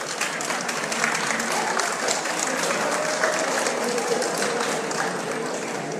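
An audience at a talk claps in sustained, even applause, a thick steady rattle of many hands close and loud for the whole stretch, with a faint murmur of voices underneath.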